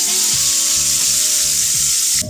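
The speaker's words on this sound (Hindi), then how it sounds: "एंड में हम थोड़े से प्याज से बघार लेंगे" Onions frying in hot oil as a tempering for haleem give a loud, close, continuous sizzle with a faint steady hum under it, and the sound cuts off abruptly near the end.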